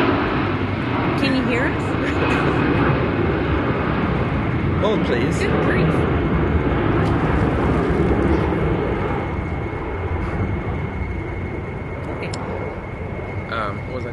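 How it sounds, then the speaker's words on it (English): A large airplane flies low near an airport, its loud, steady engine roar filling the whole stretch and fading slightly toward the end while people talk over it. "Plane. Major plane. Big plane. We are by the airport."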